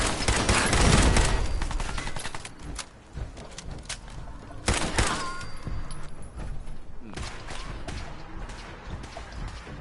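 An automated turret fires in Fallout 4, loud rapid bursts of gunfire that open strongly, then continue in choppier volleys amid other game noise.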